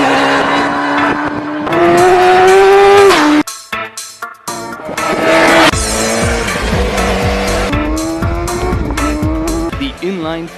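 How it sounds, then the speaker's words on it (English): A BMW S1000 motorcycle with a 999cc inline four-cylinder engine revs hard on the road, its loud rising whine climbing through the gears, breaking off briefly, then surging again close by. "when it hits the road, this motor is absolutely punchy"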